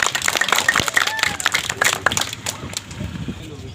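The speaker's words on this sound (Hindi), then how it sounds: "ताली बजा दो लो सब भैया।" Crowd at a street magic show clapping, a loose flurry of claps with voices talking over it, fairly close and loud, fading toward the end.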